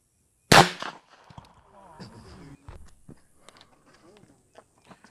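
A single sharp, loud .22 LR gunshot cracks close by, followed by people talking quietly and a few faint knocks.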